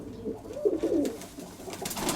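A single pigeon gives a soft, low, rolling coo, close by, with faint background noise and no voices.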